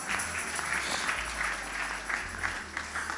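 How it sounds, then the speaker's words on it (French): A church congregation at a Geneva revival night applauds the Lord, a steady wash of many hands clapping at moderate distance with a low hum underneath. "Asseyons-nous, acclamons le Seigneur."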